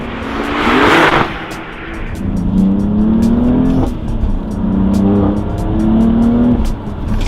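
A BMW M3 accelerates hard past, its engine note climbing in repeated rising gear pulls with shifts between, loud and close, with a whoosh of passing air at the start.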